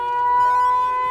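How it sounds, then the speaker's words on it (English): A loud siren blares in Mega Man Battle Network 4 Red Sun, a single sustained electronic tone holding steady for about a second with no talking. "Super loud siren today."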